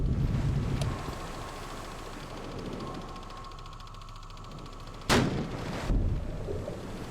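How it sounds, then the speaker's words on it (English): Depth charges explode off the stern of a warship in the Atlantic naval game, two heavy booms about a second apart over a steady wind-like rumble and engine drone. "See the depth charge going off the back."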